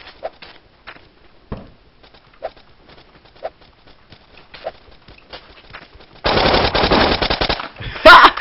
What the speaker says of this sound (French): Y'a un mec qui me tire dessus, mais je le vois pas.